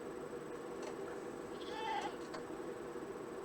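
A Minecraft goat bleats once at mid distance, a short wavering cry rising briefly over a steady ambient hiss and faint game ticks, with no talking.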